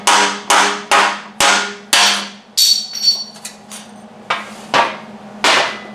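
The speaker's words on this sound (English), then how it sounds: "You can take a hammer and just break it loose." A hammer strikes a welded steel part repeatedly to knock loose aluminum backing stuck to it, giving about a dozen sharp, loud metallic blows at an irregular rhythm, close and alone.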